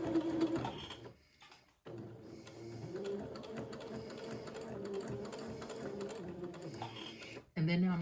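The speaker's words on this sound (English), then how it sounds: "I need to sew about a scant 1/16 of an inch away from the first stitching line" A sewing machine stitches a shirt cuff for an Eton suit a scant 1/16 inch from an earlier line, making a continuous rapid mechanical chatter that runs about six seconds and stops abruptly.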